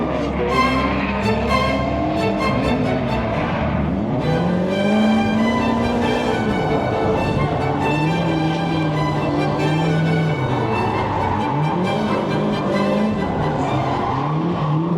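A drift car screams around the track at a drift event, engine revving hard and tires squealing continuously and loudly with shifting pitch, no voices heard.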